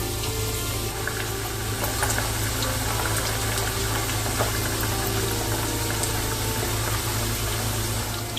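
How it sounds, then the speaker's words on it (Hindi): Chicken pieces frying in a pot for Karachi chicken biryani make a steady, continuous sizzle and hiss that stays even throughout, with a low hum underneath and no talking. "जब तक हमारी चिकन यहाँ पे फ्राई हो रही है"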